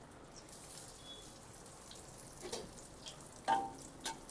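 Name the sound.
veg spring roll frying in a kadhai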